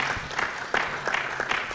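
Applause at a town hall meeting, a crowd clapping at a moderate distance with a few sharper, louder bursts rising out of the steady patter.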